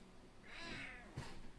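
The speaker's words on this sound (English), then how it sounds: "How's a kitty under the microphone?" A cat meows from right under a microphone, giving one drawn-out, fairly soft meow followed by a brief low bump, with no one speaking.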